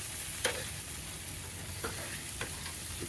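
Burgers cook on a backyard grill with a soft, continuous sizzle and a few light clicks of a spatula or tongs, faint and steady with no talk.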